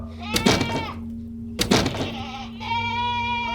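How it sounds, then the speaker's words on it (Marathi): Two loud, wavering animal bleats close by, followed by a steadier, sustained bleat, like goats or sheep calling. "भोक्यांचा आणि शेळ्यांचा आवाज अजूनही येतच होता"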